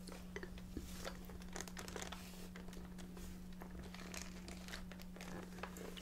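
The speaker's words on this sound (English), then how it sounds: "you can hear that little, you know, the little piece of paper you get inside" Crinkling of a small paper wrapper inside a box of chocolate truffles, a steady, close, soft rustle and crackle under a low hum, with no speech.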